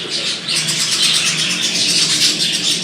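Jumbo budgerigar chicks chirp continuously at close range, a loud, dense mass of overlapping high tweets and squeaks with no talking.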